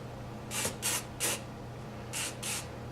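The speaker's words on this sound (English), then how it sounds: "And then I take my hands and I lift up my hair, and then I spray it, and then I kind of let it fall." Hairspray mists onto hair lifted up by hand in quick bursts, three short hisses, a pause, then two more. The sprays are close and clear over a faint steady background hum.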